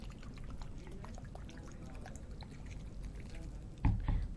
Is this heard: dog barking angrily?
no